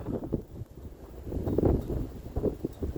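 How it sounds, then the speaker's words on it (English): Strong gusts of a winter storm during a whiteout batter the microphone, a broad rumbling roar that swells and eases in irregular surges, loudest around the middle, with no voices. "There's a big gust."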